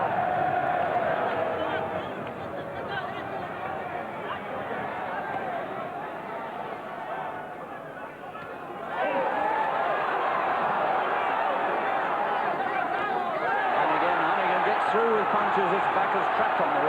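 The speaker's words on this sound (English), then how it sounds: "this crowd singing their appreciation of him" A boxing arena crowd at the Honeyghan vs Vaca rematch sings and roars in a steady, loud wash of massed voices, swelling louder in the second half, with a commentator talking over it.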